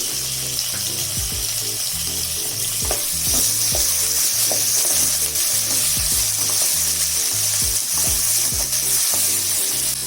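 Chopped tomatoes and green chilies fry in a pan over a medium flame, giving a steady close sizzle broken by regular scraping and stirring strokes, with no voices.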